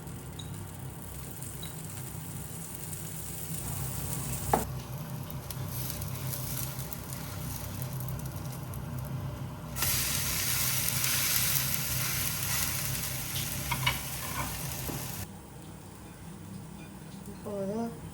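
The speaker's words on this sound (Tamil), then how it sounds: "வெங்காயம் போடணும், நல்லெண்ணெய் போடுறேன்." Onions frying in sesame oil for dosa give a steady, close sizzle that swells louder midway, with a couple of sharp utensil clanks and a faint voice murmuring underneath.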